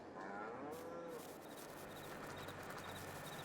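Cows mooing in a large cow barn in Farming Simulator 22, several low drawn-out moos overlapping at moderate distance, over steady barn ambience with faint bird-like chirps.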